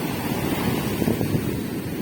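Sea surf rolls in a steady, loud wash of breaking waves, with heavy wind buffeting the microphone and no voices.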